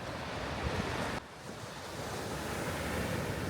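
Ocean surf at New Brighton Beach with wind buffeting the microphone, a constant rushing wash with a brief dip, steady and close, no talk.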